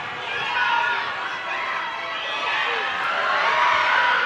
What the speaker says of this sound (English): the spectators and the supporters of Zimbabwe definitely are having a moment there, cheering them on